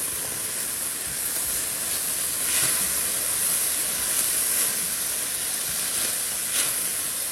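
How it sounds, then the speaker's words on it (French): Garlic cloves and chive onion heads frying over high heat in a pan, a continuous bright sizzle and hiss that holds steady from start to finish with no talking. "Toujours à feu vif. Avec mes gousses d'ail ainsi que mes têtes d'oignon de mes ciboulettes."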